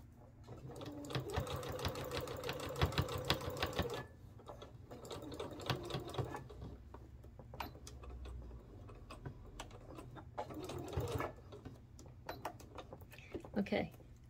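A sewing machine running in bursts as it stitches the side edges of a fabric tea towel, rapid clattering runs broken by pauses and clicks, with a voice talking at times.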